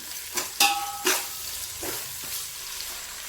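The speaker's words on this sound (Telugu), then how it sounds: "ఒక చిన్న నిమ్మకాయ సైజ్ అంతా అల్లం ఎల్లిగడ్డ పేస్ట్ వేసేయాలి మంచిగా ఫ్రై చేయాలి" Ginger garlic paste frying in a pan for egg biryani, a steady hiss of sizzling oil broken by a few sharp scraping clacks of a spoon against the pan early on.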